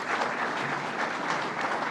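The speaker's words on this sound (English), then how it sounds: "Pat Fahey and John McDonald, why don't you all stand up and take a round of applause here for all of you." Audience applause at a New York governor's announcement event at Albany International Airport, dense steady clapping from a crowd, close and even for the whole stretch.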